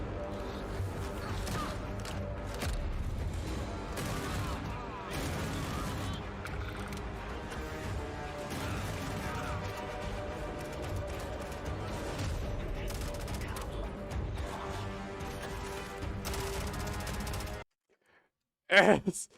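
Gunfire and grenade blasts in the Starfield video game, a dense continuous barrage of shots and explosions with some speech mixed in, cutting out near the end before a final burst.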